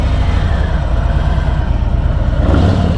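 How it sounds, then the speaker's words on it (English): A Harley-Davidson Freewheeler trike with its stock exhaust revs nearby with a loud, deep, rumbling engine note that swells toward the end. "Let me give the exhaust a spin for you."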